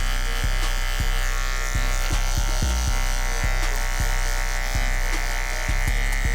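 Electric hair clippers with a detachable blade buzz steadily and close up while cutting an ultra light fade, the continuous hum broken by regular soft clicks and taps as the blade moves through hair.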